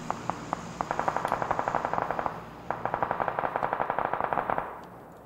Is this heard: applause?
no